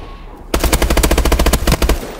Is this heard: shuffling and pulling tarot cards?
no